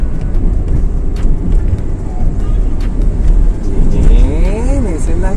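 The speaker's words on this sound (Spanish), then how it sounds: "Estamos acelerando." A car engine hums and accelerates under steady road noise during a driving lesson in traffic, with people talking over it throughout.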